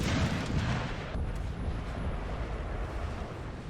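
Artillery rumbles across a Napoleon Total War battlefield, a dense, continuous roar of distant cannon booms blending into a low, heavy wash without any talk.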